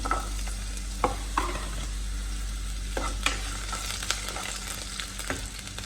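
Chopped ash gourd and elephant foot yam frying in coconut oil for Kerala chattichor, a steady close sizzle with occasional stirring clinks and scrapes, no voices.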